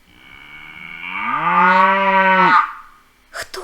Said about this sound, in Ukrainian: Корівка мукає.